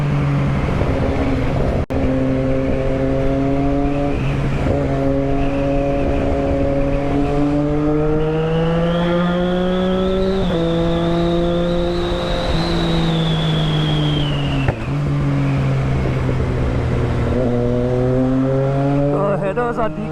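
A decatted Triumph Street Triple 675 motorcycle accelerates hard through morning traffic, its engine note climbing loudly and steadily through rising revs with a brief dip mid-pull, close and continuous.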